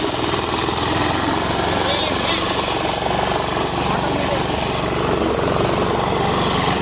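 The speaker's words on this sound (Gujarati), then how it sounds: "નાનું ભાઈ ઘાસ કટિંગ કરે છે મશીન" A grass cutting machine runs in a farm field, a loud steady engine drone that holds constant and close for the whole stretch.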